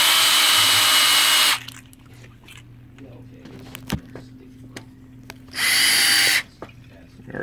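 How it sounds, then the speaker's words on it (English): A power drill spins the oil pump to build engine oil pressure on an engine build, whining loud and steady in two bursts, at the start and again near the end, with quieter shop sounds between them. "Speed it up. And the drill bogs."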